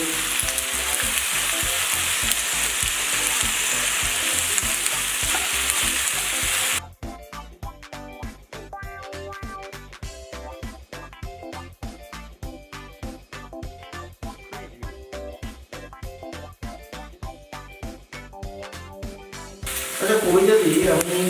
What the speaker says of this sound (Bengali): 1 টেবিল চামচ দিচ্ছি ভিনেগার, এবার একটু আমি নেড়ে চেড়ে